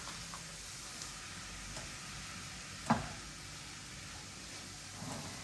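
Beet soup ingredients sizzle in a pan under a steady frying hiss, with one sharp clink of the stirring utensil against the pan partway through and softer scrapes around it.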